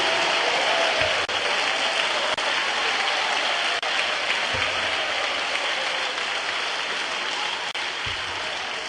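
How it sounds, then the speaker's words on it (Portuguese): A church congregation claps their hands steadily through a worship service, a dense continuous wash of many hands filling the room at a constant loud level, with a few sharper knocks breaking through now and then. "Desocupem as mãos, batam palmas e glorifiquem ao Senhor Jesus"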